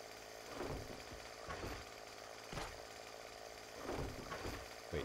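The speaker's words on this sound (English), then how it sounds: "I have chainsaw. I will chop you in half." A chainsaw in the video game 7 Days to Die revs in rough, grinding bursts that surge and ease roughly every second or two, loud and close, with no talk over it.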